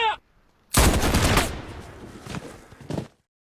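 A burst of gunfire from a wartime film scene where partisans are executed, a loud close volley with a rolling tail, followed by a smaller sharp report before silence.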